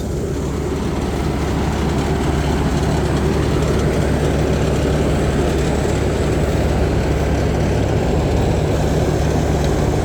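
A Thai Charoen combine harvester drones loud and close as it works through a rice field, its engine giving a steady, dense rumble with grinding mechanical texture that holds unbroken throughout.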